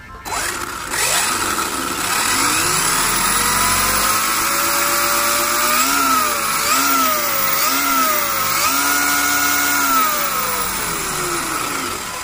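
An Arrma Talion 6S V4 RC car on asphalt revs at full throttle with a loud, high electric whine that rises, wavers through several surges and holds strong before easing slightly, heard close with no talking.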